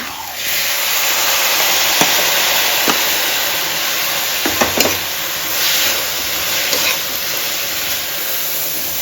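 Onions and tomatoes fry in a pan with a steady sizzle and hiss, and a few brief clinks of stirring. No voices.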